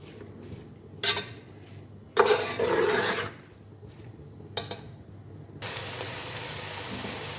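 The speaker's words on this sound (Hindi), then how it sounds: "इस स्टेज पे हम शामिल करेंगे इसमें हरी मिर्ची और इसको खूब अच्छे से हम तेज़ आंच पे भूनेंगे" Cabbage sabzi with green chilies frying in a pan on high heat, with bursts of sizzling and spattering broken up by clinks of a utensil against the pan, and a steady loud sizzle in the last seconds.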